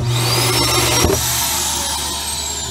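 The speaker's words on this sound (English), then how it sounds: "You got your central vac with the floor sweep." An RV central vacuum with floor sweep running inside a 2020 Keystone Montana 3741FK fifth wheel, a loud steady motor whine and rushing airflow, with a brief knock partway through.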